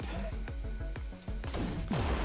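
Rocket launcher firing in the Wrack: Exoverse shooter game, a series of punchy, evenly spaced shots followed by heavier blasts with a descending whoosh and rumbling impacts, loud and close.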